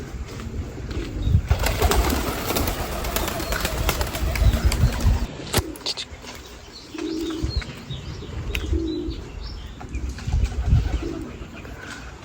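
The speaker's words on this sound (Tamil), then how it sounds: "இப்போ பார்த்தீங்கன்னா புறா எல்லாம் உள்ளே வந்துருச்சு" Domestic pigeons coo repeatedly inside a loft, soft throaty calls rising and falling close by, with some wing flapping and a person speaking Tamil over them at times.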